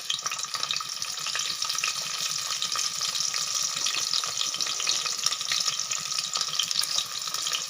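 Masala and onions fry for chicken biryani, a steady hissing sizzle with a bright, crackling texture that holds constant at moderate loudness.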